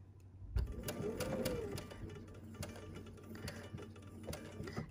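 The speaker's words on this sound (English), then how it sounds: "I'm kind of sewing slow because I really don't, I want these to come out good" Sewing machine stitching quilt fabric at a slow, careful pace, its needle mechanism ticking and whirring steadily up close with periodic sharper clicks, no talking.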